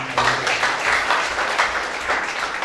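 A church congregation claps together at a sermon on the Ascension, a dense, fairly loud burst of applause with slight swells and no talking over it.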